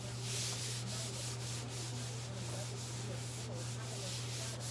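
A sanitizing wipe rubbed over a cart in a lash application workspace, a continuous close scrubbing swish over a steady low electrical hum, with no voices.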